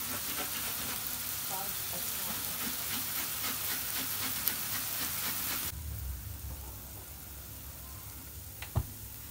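Prawns frying on a medium flame give off a steady, even sizzle that drops abruptly quieter after several seconds, with a couple of faint clicks near the end.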